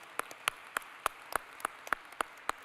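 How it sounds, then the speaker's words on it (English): Sparse, separate claps ring out at a large conference forum, about ten distinct hits spaced apart, fairly quiet with no talk over them. "So can we give them a big round of applause?"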